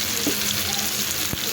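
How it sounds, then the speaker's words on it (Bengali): Dried fish frying with onion and spices in a pan, a steady hissing sizzle with a few light clicks, close and constant over a short stretch. "শুটকিটা একসাথে ভাজা করে নেবো"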